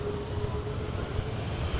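A FedEx jet rolls for takeoff on runway 23 at Toronto Pearson Airport, giving a steady, broad engine roar with a faint whine, at moderate distance and without talk.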